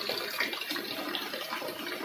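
Water runs steadily from a newly installed home water purifier, a continuous close-up splashing flow with no talk.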